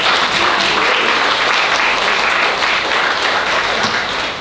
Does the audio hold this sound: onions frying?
no